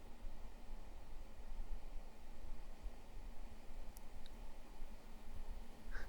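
A LIDL SilverCrest 1200 W bladeless fan heater runs on eco mode, giving a steady, even broadband airflow hiss with a low hum, continuous throughout with a few faint ticks near the end.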